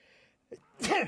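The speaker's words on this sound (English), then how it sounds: "Oh god, sneezing." A single sharp human sneeze, close and loud, preceded by a brief inhale during a live reading stream.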